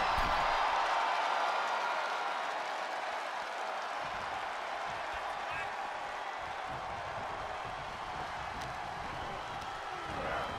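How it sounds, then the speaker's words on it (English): An arena crowd in WWE 2K23 during an Elimination Chamber championship match keeps up a continuous, dense roar of cheering and applause, with a commentator talking over it throughout. "Cody Rhodes rallying up the crowd like only a Rhodes can."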